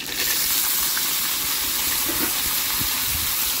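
Green chillies and tomatoes sautéing in hot oil in a home kitchen pan, a steady close sizzle and hiss running throughout with a few small pops and no talking.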